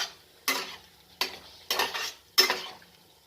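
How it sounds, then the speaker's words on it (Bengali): Cauliflower curry with ground spice paste and water is stirred in a pot in four separate scraping, sloshing strokes, each one short and close with quiet gaps between. "আর এটা ভালো করে নেড়ে চেড়ে মিশিয়ে দিলাম"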